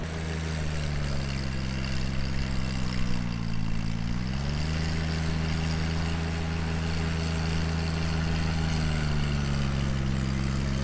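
John Deere 1025R sub compact tractor tilling a large yard, its engine droning loud and steady, the pitch sagging as it labors under load, then recovering and holding.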